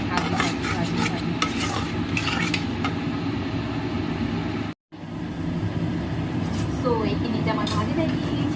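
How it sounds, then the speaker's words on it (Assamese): Shrimp and vegetables fry in hot oil in a home kitchen pan for a shrimp malai curry, a continuous close sizzle broken by scraping stirs and clinks of the utensil, with one brief silent gap midway. "এইখিনি এতিয়া মই ভাজি থাকিম"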